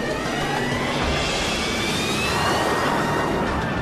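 A steady, loud roar of a Harrier jump jet engine, continuous and unbroken, with a faint high whine riding above the broad rumble.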